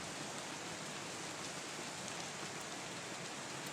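Steady, even rainfall hisses continuously without a break, a dense wash of falling drops with no voices.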